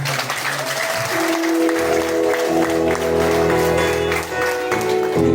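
Steady clapping from a crowd at a wedding ceremony carries on over sustained music tones and a murmur of voices.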